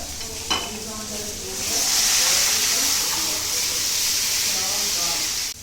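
A clank, then fish gravy hits hot oil and bursts into a loud, steady sizzling hiss that continues to the end.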